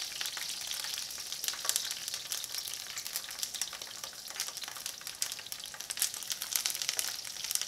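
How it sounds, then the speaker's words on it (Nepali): Green chilies fry in a pan while cooking a vegan cauliflower sabzi, giving a steady, close hiss of sizzling oil with faint crackles throughout and no talking. "एकछिन यसलाई म भुच्छु"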